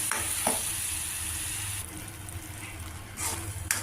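Onion paste and tomato purée sizzle steadily in a pan while cooking down for an okra curry in yogurt, with a couple of faint stirring scrapes; a continuous close frying hiss, no talking.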